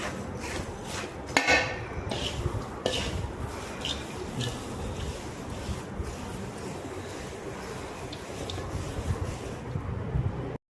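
Puffed rice tossed and mixed by hand with garlic gojju in a bowl, a steady dry rustle and crackle with a few clinks against the bowl, running on throughout.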